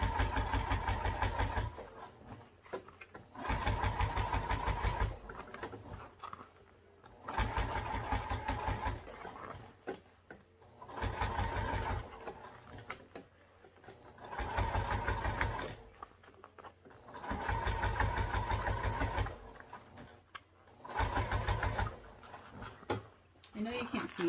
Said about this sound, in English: I'm just sewing around here at a 1/4 inch seam allowance.